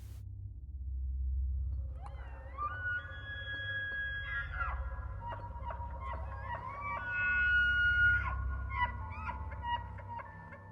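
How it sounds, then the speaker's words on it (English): Elk bugle in a forest, a long rising whistling call with grunting breaks, echoing off ridges and pine trunks over a steady low wind rumble, heard from a distance without talk. "an elk bugle doesn't just hit your ears, you feel it"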